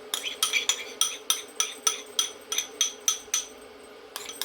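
Blended tomatoes being stirred into a cooking pot, heard as a metal utensil clinking against the pot in a steady, rhythmic series of close, bright knocks, with a short pause before a few more strikes.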